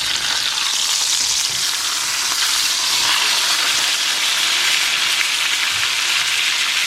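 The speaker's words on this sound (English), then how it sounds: "I added oil to a cast iron skillet. I also added some butter on the steak." Steak frying in oil and butter in a cast iron skillet, giving a loud, steady, dense sizzle with crackling spatter that holds unbroken throughout, with no voices.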